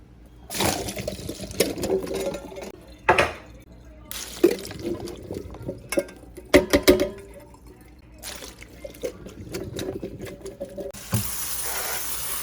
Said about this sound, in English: I am going to open up the cans of hominy, and I'm going to drain them, and I'm going to rinse them.